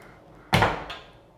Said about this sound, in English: This does have a pull closed door.